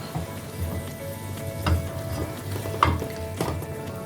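Spinach added to cooked dal in a pan over a high flame, a steady close sizzle and bubbling with a few soft stirring knocks, alone with no voices.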